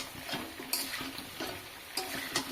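Potatoes and onions frying in oil for homemade biryani, a soft, fairly quiet sizzle with a few light scraping stirs of a spatula, no voices.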